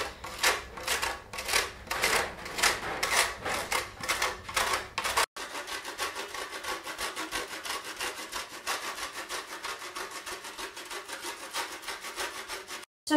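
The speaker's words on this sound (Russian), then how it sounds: "на крупной терке я буду натирать замороженное тесто" Frozen dough rubbed on a coarse grater straight into a baking dish for a low-calorie cottage cheese pie, making a steady rhythmic rasping, first in strong separate strokes, then in a quicker continuous scraping run.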